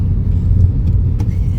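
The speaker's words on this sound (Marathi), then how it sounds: "ट्रॅफिक जाम आहे आज नेहमीपेक्षा." Road traffic stuck in a jam: a continuous low rumble of car engines close by, steady and even throughout, with faint higher noises scattered over it and no clear voices.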